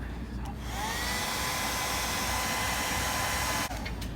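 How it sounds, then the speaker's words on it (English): A heat blower runs steadily and loudly for several seconds on the emblem of a 2017 Subaru WRX to soften the tape behind it, starting with a brief switch-on and ending with a short dip. "I'm gonna go ahead and hit this thing with some heat and go ahead and try to peel off this emblem."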